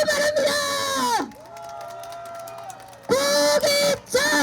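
Crowd at an election rally in Seogwipo cheering and shouting loudly in two bursts, with a quieter stretch of amplified voice between them.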